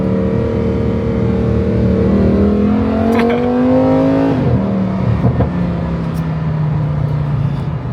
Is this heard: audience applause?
no